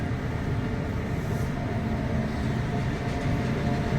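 The Shalimar–Patna Duronto Express rolls on after leaving Asansol, heard from inside the coach as an even, loud rumble with light wheel clatter and no talk.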